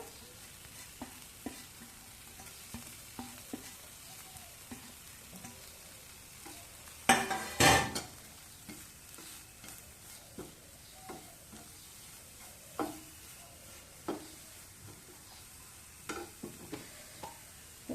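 Carrot pieces frying with broccoli in a pan make a low, steady sizzle, with scattered spatula taps and a brief loud clatter as the vegetables are tipped in and stirred.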